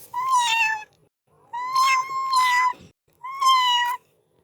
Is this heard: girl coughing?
no